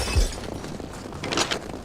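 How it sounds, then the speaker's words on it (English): A stock glass-breaking effect from the video game Wrath: Aeon of Ruin gives a short shatter, followed by a second brighter burst of tinkling shards, over a dull in-game background. "That's like the stock, like, glass breaking sound effect"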